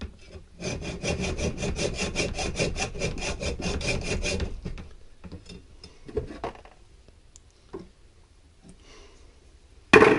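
A hand saw cuts through a Powerflex polyurethane bushing from a BMW E36 front suspension in a fast, even run of rasping strokes, then stops, leaving faint scattered clicks and handling noises.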